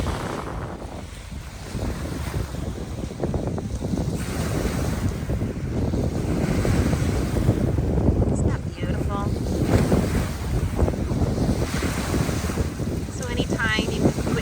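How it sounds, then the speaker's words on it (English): Ocean waves wash onto a pebble shore under strong gusting wind, a loud continuous roar of surf with heavy wind buffeting the microphone throughout. "Let me show you these waves before I log off here. It's beautiful. You can hear the wind talking."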